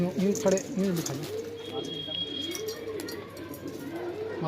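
Close, repeated low cooing from Madrasi pigeons kept by a fancier in Ajmer, Rajasthan, rising and falling in rolling phrases, with a voice speaking briefly at the start.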